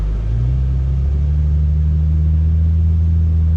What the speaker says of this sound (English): Okay, traction is fully off. We're going to like, not launch it, but a little brake boost.